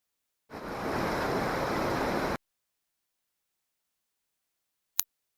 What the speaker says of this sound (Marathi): पाणी कसं झरेने वाहते